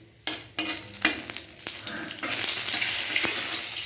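Dry red chilies, cinnamon and whole cumin hitting hot oil for a banana-stem curry, erupting into loud, close sizzling with sharp bursts at first, then settling into a steady, bright frying hiss.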